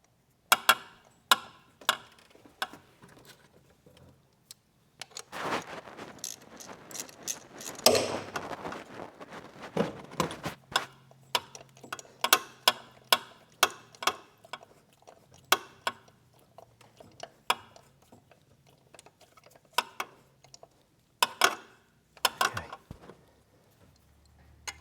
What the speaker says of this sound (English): let's get these new spark plugs in